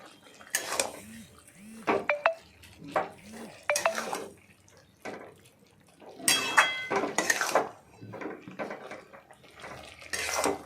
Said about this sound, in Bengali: মুগ ডাল বাটাগুলো দিয়ে দিলাম তার মধ্যে দিয়ে ভালো করে নাড়াচাড়া করলাম